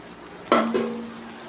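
A spoon clatters once then again against a pan as grated coconut gets stirred into frying brinjal stir fry, followed by a lingering metallic ring over a soft background hiss.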